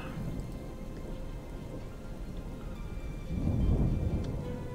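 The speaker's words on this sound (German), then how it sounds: "Machen wir das Gewitter weg." Heavy storm rain hisses steadily in Frozenheim, a Viking settlement-building game, and a deep roll of thunder swells near the end, with no voices.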